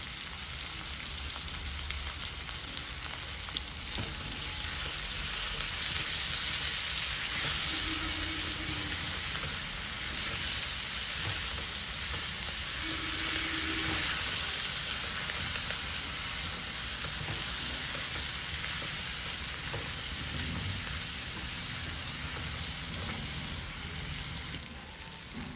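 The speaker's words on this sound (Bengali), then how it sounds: "এটাকে দিয়েও আমি হালকা করে একটু কষে নেব।" Tomato and green chilli sautéing with turmeric in a pan for a Bengali katla fish curry with pumpkin and potato, a dense, steady hiss like rain that swells slightly at times, no speech.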